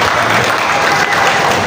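Audience applause fills the room at a student leadership gathering, steady dense clapping throughout without a break.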